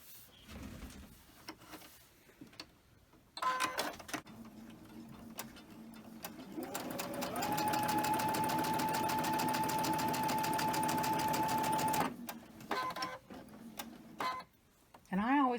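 A home sewing machine stitches a 9-inch fabric strip for a mini Christmas tree wall hanging, running in a steady fast whir for several seconds mid-clip, with shorter bursts and pauses around it.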